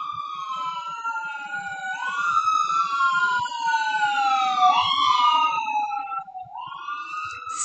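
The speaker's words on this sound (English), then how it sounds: "Sirens." Wailing sirens rise and fall in overlapping sweeps, several emergency vehicles passing at moderate distance through a busy neighborhood, with no voices.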